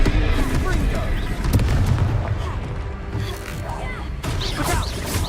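Confringo blasting spell cast in Hogwarts Legacy, heavy booming explosions and crashing impacts layered over dense battle noise, with a voice calling out in the middle of the din.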